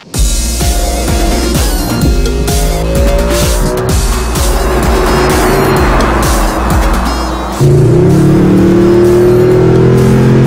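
A Mercedes-Benz SLS AMG roars around the Circuit of the Americas, engine revving hard through repeated gear changes, with tires squealing in the corners.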